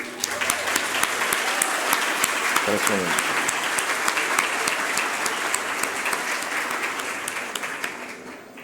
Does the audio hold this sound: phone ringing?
no